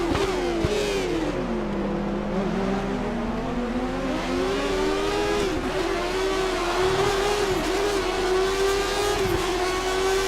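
A 1980s-era Formula 1 car in F1 2013 at Montreal sends out a continuous high engine whine that sweeps up and down through gear changes under steady acceleration, loud and close over a constant background rumble, with nobody talking.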